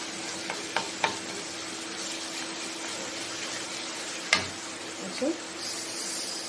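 Chopped ginger sizzles in hot oil in a pan while cooking spiced eggplant, a steady soft frying hiss with occasional sharp clinks and stirring knocks, and a voice speaks over it.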